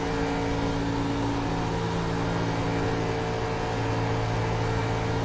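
Onboard engine of an ARCA Series race car at Texas Motor Speedway in a racing game, a steady, dense droning roar held at constant pitch throughout with no break, close and loud.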